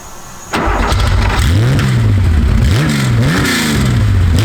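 A Porsche 911 with an Autofarm three-pipe exhaust, all pipes open, barks into life and revs repeatedly, loud and close, the engine note rising and falling in several sharp blips over a throaty idle.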